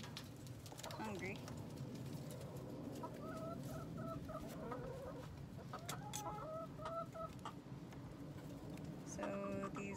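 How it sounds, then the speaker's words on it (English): Backyard chickens clucking in short soft bursts, scattered and fairly quiet amid outdoor background noise, with people talking nearby. "We've got our favorite chicken, Pumpkin, over here."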